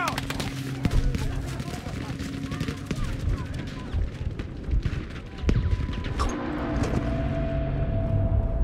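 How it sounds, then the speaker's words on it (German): A grenade blast booms out at the midpoint of a Battlefield 5 multiplayer firefight, sitting among continuous loud gunfire and crackling shots, with distant rumbles throughout. "Ich werfe eine Granate!"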